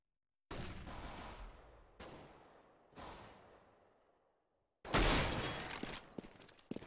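Four Counter-Strike gunshots, including sniper scout fire, ring out in a match: three sharp, evenly spaced cracks with echoing tails, then a louder, sustained burst after a short pause.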